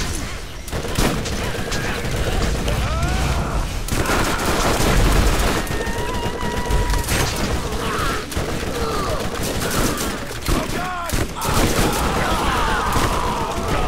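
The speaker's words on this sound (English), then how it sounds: "we're still getting shot at" Dense, continuous gunfire from the Borderlands shooter, bursts and rapid shots overlapping for the whole stretch, loud and close, with a player talking over it.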